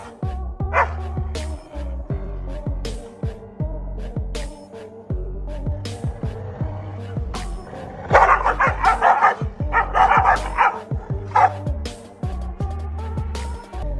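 Several dogs bark and yip repeatedly in quick, overlapping bursts, loud and close, with a denser flurry of excited barking midway; no voices accompany them.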